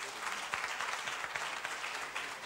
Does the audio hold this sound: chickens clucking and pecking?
no